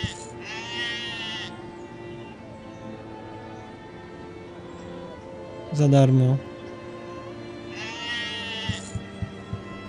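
Sheep bleat in the video game Arcanum, with one loud, close bleat midway, set against game music and ambience, and someone speaks briefly.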